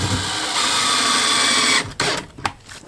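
A power drill drives GRK cabinet screws during a salvaged mobile home rebuild, a loud, close, whining motor run that stops abruptly, followed by a couple of short bursts and clicks.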